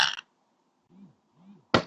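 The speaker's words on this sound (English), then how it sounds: "Is that a good burp for you?" A person produces two low, drawn-out burps about half a second apart, each fairly soft, with short bursts of noise at the start and end and no talking.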